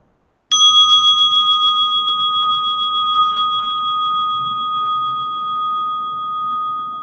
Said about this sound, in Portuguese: E quando você ouvir o som do sino,